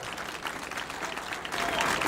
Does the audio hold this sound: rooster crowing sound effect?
no